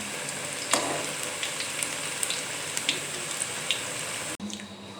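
Chicken pakora frying gently over a low flame, a steady soft sizzle of oil throughout with a few brief clinks and stirring sounds, then a short quieter break near the end.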